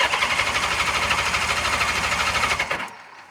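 The engine of a car left standing for 20 years turns over, a loud rhythmic cranking chug that runs steadily for nearly three seconds and then cuts off abruptly into quiet.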